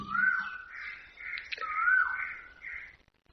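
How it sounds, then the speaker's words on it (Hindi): Asian koels call outdoors, their rising whistled notes repeating several times at moderate distance in a quiet open-air setting, with faint background ambience. "आज कोयलों की बहुत आवाजें आ रही हैं।"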